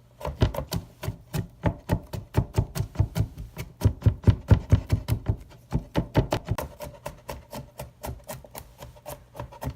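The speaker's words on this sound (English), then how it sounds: "I'm just going to rock the blade back and forth." A knife blade rocks back and forth chopping garlic on a wooden cutting board, giving a steady run of close, crisp knocking taps with no talking.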